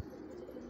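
Pigeons kept in a loft coo softly in a brief, low, steady murmur at a distance.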